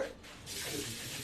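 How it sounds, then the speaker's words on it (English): Water running from a kitchen tap during handwashing, a soft, brief hiss that swells partway through, quiet and alone. "we'll wash the hands real quick"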